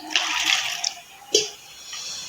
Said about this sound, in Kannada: ಇದಕ್ಕೀಗ ನೀರು ಹಾಕಿ ಓವರ್ನೈಟ್ ನೆನೆ ಹಾಕ್ತೇನೆ